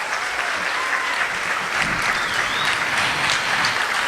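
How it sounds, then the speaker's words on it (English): Pageant audience applauding after the contestants, a loud, dense and sustained clapping from a large crowd filling the hall. "Give them another hand, the girls."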